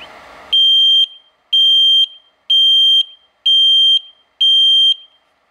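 A loud, piercing 24V electronic security alarm buzzer sounds five times in even pulses, each about half a second long, separated by short silences, after a brief rustle.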